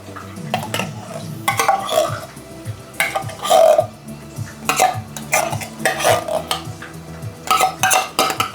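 Spoon stirring cream of chicken soup with other ingredients in a metal pot for creamy chicken rice with mushrooms and broccoli, a steady run of close scraping and clinking strokes, loud and without speech.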